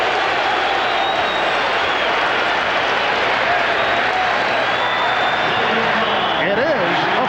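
A packed basketball arena roars at a foul during the 1996 NBA Finals Game 2 between the Seattle SuperSonics and Chicago Bulls, a loud, continuous crowd din with a commentator talking over it.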